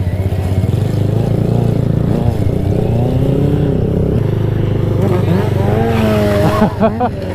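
Supermoto and big motorcycles circling a lot during practice, engines droning loud and continuous with rising and falling revs as bikes pass, near and overlapping, while a person talks over them.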